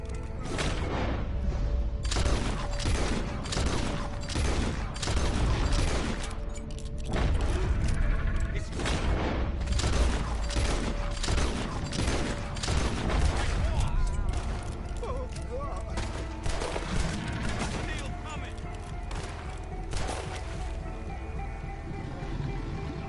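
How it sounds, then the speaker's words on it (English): Rapid, loud gunfire from the video game Red Dead Redemption 2 crackles in dense bursts for most of the stretch, thinning slightly near the end, with game voices mixed in. "Keep shooting."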